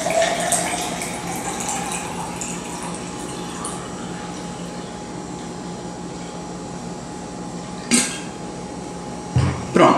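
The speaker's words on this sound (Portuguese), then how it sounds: "então eu vou colocar mais 300 ml de água" Water poured into guaraná concentrate to dilute it in a measuring cup, a steady close trickling stream that ends with a couple of brief clinks and knocks.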